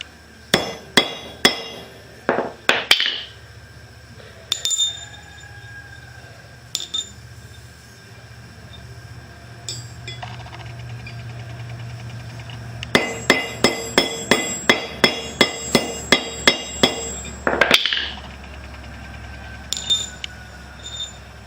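A hammer strikes a bent push rod from a Kohler CV20S engine, giving sharp metallic clinks in bursts, with a rapid run of a dozen quick blows near the end and quiet pauses between.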